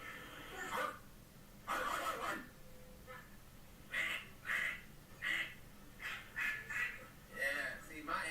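A person imitates a duck with a series of nasal quacks, a couple of longer calls followed by a quick run of short, repeated quacks, heard fairly close on a live stream.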